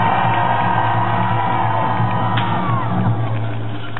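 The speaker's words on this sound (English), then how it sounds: "Cheer on your knight!" Outdoor crowd at a Renaissance festival jousting tournament cheering and whooping for the knights, a loud sustained roar of yells and shouts that holds steady for several seconds.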